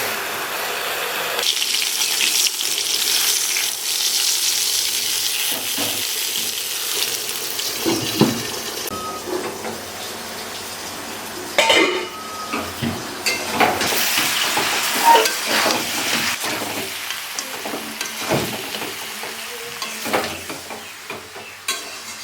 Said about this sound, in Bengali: ভালোভাবে এখন কষাবো